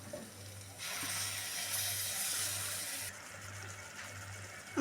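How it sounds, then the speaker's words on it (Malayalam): Tamarind water is poured into a bitter gourd theeyal curry in a pan, giving a soft, steady splashing pour of a couple of seconds. It sounds quiet and close, with no talking. "ആവശ്യത്തിന് പുളിവെള്ളം ഒഴിച്ചു കൊടുക്കുകയാണ്"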